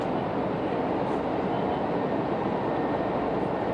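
Steady, loud rumble of a WMATA 6000-series Alstom Yellow Line metro train riding between stations, a continuous broadband roar of wheels and motors with no voices.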